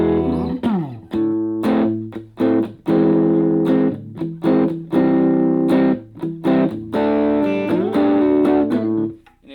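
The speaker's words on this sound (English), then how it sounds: "Mildly overdriven tone without paper tear sound in the decay" A mildly overdriven electric guitar plays chords and notes through a Yamaha THR10 II amp, warm and slightly gritty, loud and close with short gaps between phrases.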